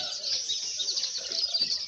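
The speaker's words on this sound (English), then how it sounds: "So they are the yellow type of birds." Yellow birds perched in a huge forest tree give a continuous overlapping chorus of high chirps and tweets. The calls are moderately close and steady throughout, with no talking.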